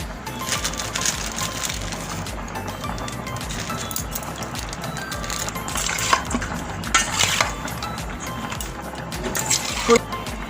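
Raw chicken is worked by hand with turmeric, coriander powder, chilli, salt and gram flour, giving a steady, close, wet squelching and rubbing that keeps going the whole time, with a few sharper clicks near the end and no one talking.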